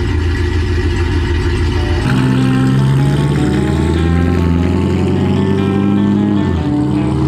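A Fiat Multipla tuned to 1294 hp drives off with a loud, close engine roar, rumbling at a steady pitch before the revs climb and the note changes as it pulls away.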